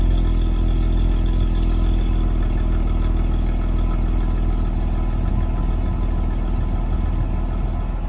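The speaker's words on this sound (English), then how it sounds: "I'll let you hear the exhaust for a couple of minutes." A right-hand-drive 2018 Jeep Wrangler idles at a steady rumble through its exhaust, a constant low engine drone held close by for the whole stretch, with no talking over it.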